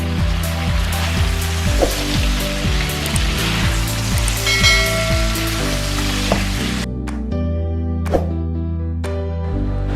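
Pork ribs sizzle and fry in a pan with soy sauce and hoisin sauce, a close crackling hiss with scraping stirs, which thins out abruptly near the end into quieter pops.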